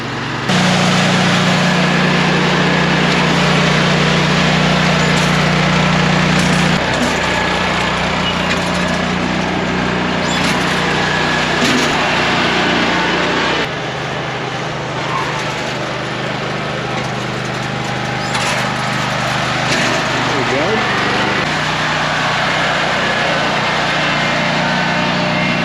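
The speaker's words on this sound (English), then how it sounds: "we got a 52-inch Toro Grandstand Multi-Force, the mulch bucket on the front" A 52-inch Toro Grandstand Multi-Force stand-on mower with a front mulch bucket and Kohler engine runs steadily and loudly close by, a continuous droning engine tone with slight shifts in load throughout.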